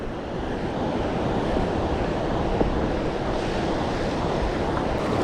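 Small waves wash steadily onto an empty beach under constant buffeting wind noise, a dense continuous roar with no voices.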